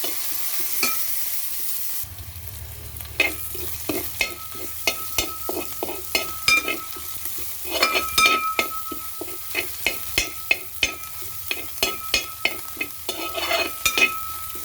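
White clam meat frying with chillies in a pan, stirred with a utensil: a close, rhythmic series of scraping strokes over a steady sizzle, with no voices.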